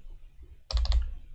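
Quick burst of four or five crisp keystrokes on a computer keyboard during coding work, close and distinct, following a quiet pause with no talk over it.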